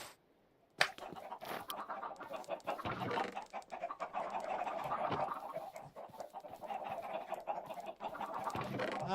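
Chickens in the Minecraft farming game cluck and squawk in a busy, steady stream after a sudden start, moderately loud and close.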